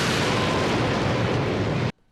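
A character in a video game blows up in one loud, dense, sustained explosion that roars for about two seconds and then cuts off abruptly into silence.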